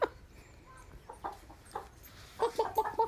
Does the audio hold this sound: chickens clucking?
yes